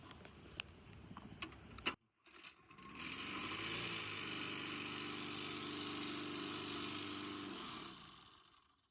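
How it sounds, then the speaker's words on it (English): A Craftsman 7.75 HP lawn mower engine rattles through a few pull-start attempts, falls briefly silent, then catches and runs with a steady droning idle for about six seconds before cutting out. "Let's see if we can't get the mower to start."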